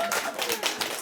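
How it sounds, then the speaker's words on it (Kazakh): A small group claps briefly at a retreat scoring session, a short burst of close, quick hand claps mixed with voices. "24 баллмен шапалақ."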